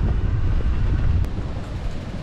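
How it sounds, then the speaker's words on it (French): Headwind buffeting the microphone on a Scott Axis electric mountain bike ride along the Canal du Midi, a steady low roaring rush that stays loud for the whole stretch, with no talking. "Chiant au possible ce vent de face là."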